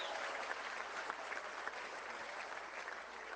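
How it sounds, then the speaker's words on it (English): A crowd at a political rally in Trenton, Nova Scotia claps steadily and fairly evenly throughout, a dense wash of applause heard from a distance with no clear speech. "Everybody, give him a round of applause."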